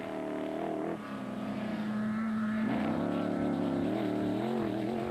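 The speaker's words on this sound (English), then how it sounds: "The blue Silwald Transport Zarko came flying by next." A blue Silwald Transport Zarko off-road race car roars past at full throttle during a desert rally race, a loud, sustained engine drone whose pitch shifts as it sweeps by, with no voices.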